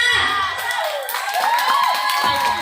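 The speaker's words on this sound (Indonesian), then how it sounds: "Beri tepuk tangannya." A school speech contest audience, largely children, erupts in loud cheering and shouting with whoops close by, a bright, excited crowd roar lasting a few seconds.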